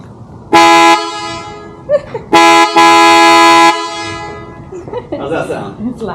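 A PIAA Super Bass Horn on a 2019-or-later Mercedes Sprinter van blares loudly in a short honk, then a longer sustained blast, followed by people talking and reacting close by.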